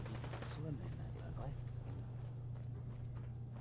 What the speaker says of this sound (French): Qui c'est qui tire comme ça?